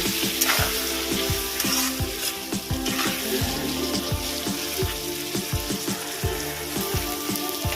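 Chilli powder fries in a pan for fish vorta with a loud, continuous sizzle. Rhythmic spatula scrapes and taps sound against the pan throughout, and no one speaks.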